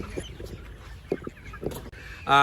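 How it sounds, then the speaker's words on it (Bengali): Chickens clucking in short bursts against a busy background murmur, ending in a louder, sustained call close by. "মুরগিগুলা দেখতে অসাধারণ লাগছে আসলে"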